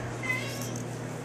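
A house cat meows once in a home kitchen, a short, fairly close call heard over a steady low hum, with faint voice traces in the background.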